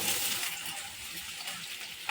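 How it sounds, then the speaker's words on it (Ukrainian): Steady crackling sizzle of onions frying in a pan, a continuous hiss with light popping throughout and no talking. "смажу цибульку."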